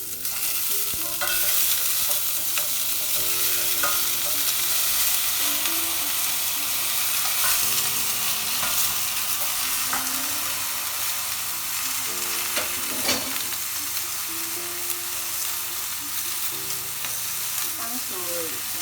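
Pork ribs fry in a hot pan with dried chillies, giving a steady, loud sizzle that runs throughout, with occasional clinks and scrapes of stirring over the crackle.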